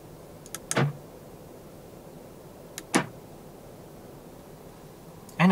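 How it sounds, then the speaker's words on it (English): Central locking on a 2021 Audi Q5 45 TFSI quattro S line, heard from inside the cabin as two sharp, close mechanical actuator clunks about two seconds apart, followed by a third at the end, over a quiet background hiss. "Electronic central locking."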